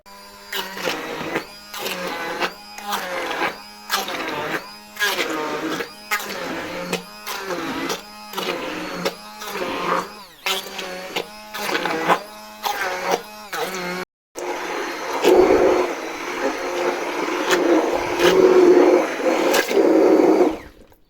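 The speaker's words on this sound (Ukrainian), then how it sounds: "І ми їх також збиваємо блендером." An electric blender purees cooked apples in short repeated pulses, each a loud whirring burst separated by brief pauses, followed by a longer continuous run at the end.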